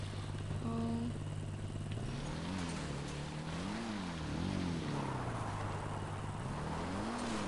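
A motorcycle ridden in GTA Online, its engine droning steadily with rising and falling revs as the bike accelerates and eases off, continuous and fairly close throughout.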